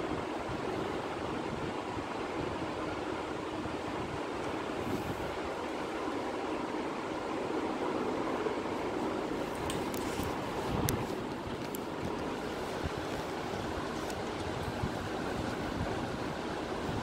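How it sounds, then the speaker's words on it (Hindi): Electric grinder blending green chillies, ginger and a little water, a steady dense whirring roar that fills the whole stretch without pause, close and constant. "अब हम इसको ग्राइंड कर लेते हैं।"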